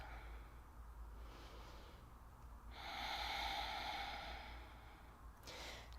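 A slow, deep inhalation and exhalation during a yoga side stretch, the breath rising into a soft broadband rush for a couple of seconds before easing off, close and quiet with no talking.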